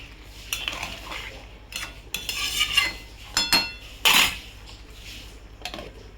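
Metal pots, a lid and utensils clink and clatter in a home kitchen as cooked chicken is covered, sharp irregular knocks and scrapes spread across a few seconds, close by with no talking.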